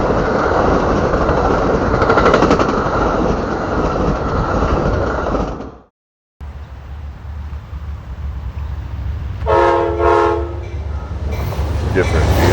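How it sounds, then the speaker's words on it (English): An Amtrak passenger train rumbles past loudly in the early morning. Its steady roar drops out briefly, then returns, and a short double blast of the horn sounds partway through. "And here comes Amtrak."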